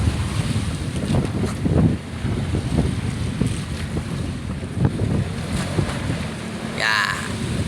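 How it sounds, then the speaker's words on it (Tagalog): Rough open sea water sloshing and crashing around a moving long-line fishing boat, with steady wind buffeting the microphone throughout. "Grabe ka lang ang alon."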